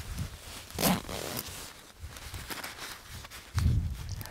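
A zipper on a down sleeping bag, The North Face Blue Kazoo, is pulled in several quick rasping strokes, close and loud, with rustling fabric between pulls.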